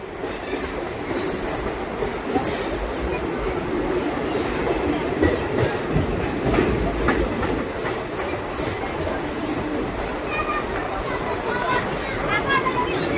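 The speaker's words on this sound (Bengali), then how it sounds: "আর কোলাঘাট রেল স্টেশন স্কিপ করে বেরিয়ে যাবে সাঁতরাগাছি দীঘা ফার্স্ট প্যাসেঞ্জার।" The Santragachi–Digha first passenger train runs past near the Kolaghat rail bridge works, a loud, sustained rumble of wagons with clattering wheels and squeals throughout.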